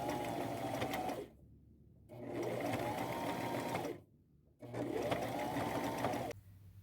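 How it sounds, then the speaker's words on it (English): Sewing machine zigzag stitching across fabric for an upcycled dress, three steady whirring runs with short pauses between them, close and clear. "Now I'm going to zigzag stitch across the very top"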